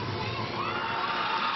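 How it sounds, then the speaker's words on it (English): A large arena crowd at a women's college gymnastics meet, Oklahoma versus Alabama, cheers and shouts loudly and continuously, a dense roar of voices with whoops sustained throughout. "Crowd's going pretty crazy."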